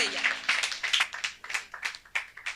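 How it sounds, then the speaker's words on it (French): A church congregation claps in a steady, quick rhythm for Jesus Christ during a worship service, with sharp, even hand claps repeating throughout and nearly filling the short stretch. "Clap your hands to Jesus Christ"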